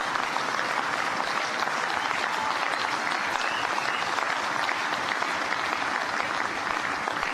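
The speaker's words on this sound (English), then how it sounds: "Would you mind giving all the Hoosiers who are here a big, big round of applause, especially those 2 on the crew?" A large crowd applauds Indiana shipbuilders and crew at the christening ceremony of the USS Indiana. The applause is thick, continuous and even for the whole stretch, with no speech over it.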